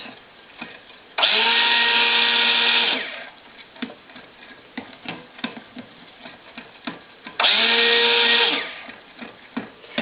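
A stick blender mixing soap batter, two close bursts of loud whirring motor of about two seconds each, separated by quieter clicks and knocks of stirring in the container.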